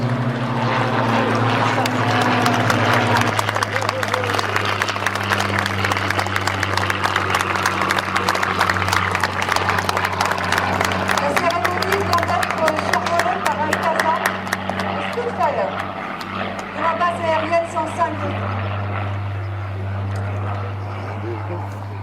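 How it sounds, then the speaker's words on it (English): A Spitfire of 317 Squadron flies past during a memorial ceremony, a loud propeller engine drone that builds and then fades slowly. Someone speaks over it. "it is a Spitfire of 317 Squadron, which flies past now"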